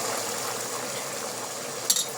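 Hot water being poured from close by into a cooking pot while making Egyptian koshari, a steady hissing splash that holds even throughout and ends with a brief clink near the end.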